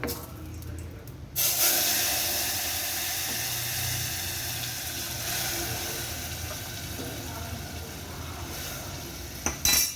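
Boiling horse gram broth hits hot tempering with a sudden loud hiss, settling into a steady sizzling roar with faint clinks of a pot close by.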